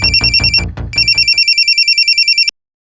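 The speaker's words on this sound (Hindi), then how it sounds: "हॉस्पिटल से फोन था सर" A telephone rings with a loud, steady electronic trill, in two bursts separated by a short gap, then cuts off abruptly. No one speaks.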